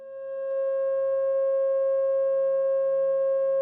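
A steady, pure 540 Hz sine tone sounds alone, fading in quickly at the start and then holding at constant pitch and volume.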